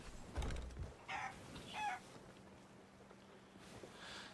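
Chickens in the pirate video game Sea of Thieves cluck in a few short, quiet bursts over soft background ambience, with no talking.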